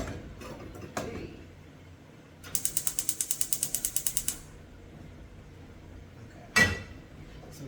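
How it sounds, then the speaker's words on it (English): A kitchen stove in Ghana is turned on with a rapid burst of ignition clicks, about fifteen sharp ticks lasting roughly two seconds, set between a few louder clunks of handling. "So turn on the stove."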